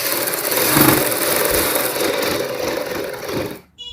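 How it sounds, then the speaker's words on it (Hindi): A sewing machine stitches piping onto a buckram edge for a kurti front neck, a fast, even whirring rattle that runs steadily before stopping abruptly near the end. "हम इसमें यहाँ पे सिलाई लगा लेंगे ताकि हमारी पाइपिंग में भी सफाई रहेगी"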